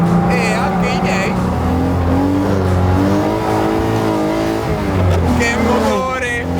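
A loud Alfa Romeo GTV6 engine revs hard on a race track, climbing and dropping in pitch through gears, with a voice speaking over it.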